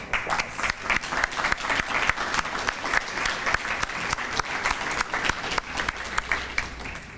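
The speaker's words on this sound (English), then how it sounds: "Give me a round of applause." Sustained applause from a crowd at a practical nursing graduation ceremony, steady dense clapping filling the hall for about seven seconds without pause.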